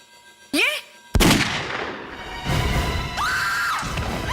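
Gunfire strikes at a CID officer in a Hindi crime drama scene, a sudden sharp crack followed by a loud sustained burst of noise with a whistling, screaming tone over it.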